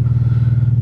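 An old high-mileage car engine idles after a cold start with a steady, rough, pulsing low rumble close by, heard alone for under a second.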